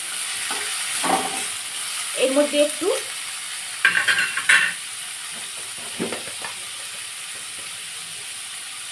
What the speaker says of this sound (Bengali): এটাকে একদম ভাজা ভাজা করে একদম ঘাটা ঘাটা করে দিতে হবে